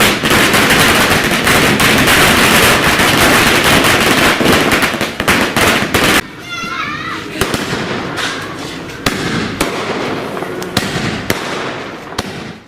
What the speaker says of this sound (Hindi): पार्टी कारकुनों ने एडवोकेट मोहम्मद खान पठान के मकान पहुंचकर आतिशबाजी की